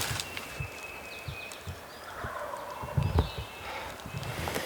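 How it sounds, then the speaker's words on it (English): A wild turkey gobbles in the Virginia mountains, its rattling calls coming from a distance and faint over quiet woodland. Scattered footsteps or thuds sound nearby, with no talking. "right where we were just set up is a turkey is gobbling"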